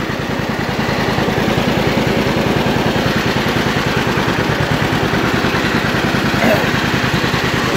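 An antique John Deere Model B tractor running in first gear, a loud close two-cylinder putt with a steady low pulsing beat that holds throughout.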